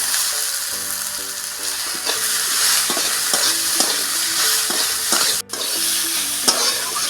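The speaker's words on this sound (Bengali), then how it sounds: "আর দিয়ে দিচ্ছি সবজিটা ঢেলে দেবো।" Vegetables, with turmeric and coriander leaves, hit a hot pan and fry with a loud, continuous sizzle, while a spoon scrapes and stirs in a rhythmic pattern.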